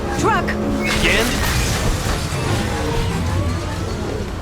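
A truck rumbles through traffic in Mass Effect 2, a continuous dense roar of vehicle noise with passing whooshes, heard under game dialogue.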